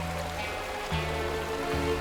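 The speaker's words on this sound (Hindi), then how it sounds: "ये वाटरफॉल नॉर्मल है क्या?" A cartoon waterfall gives a steady, rushing broadband wash of water that holds evenly throughout, with tonal layers sitting on top of it.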